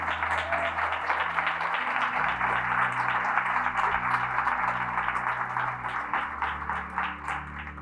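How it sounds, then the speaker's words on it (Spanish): Church congregation applauding during a Sunday service, steady dense clapping from a crowd over sustained low organ or keyboard tones, continuing for several seconds. "Denle ese aplauso al Señor Jesús."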